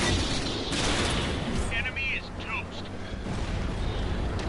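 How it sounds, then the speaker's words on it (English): Gunfire in a World of Tanks battle: bursts and booms of shooting mixed into continuous loud battle noise, with a voice talking over it partway through. "why are we driving towards the gunfire?"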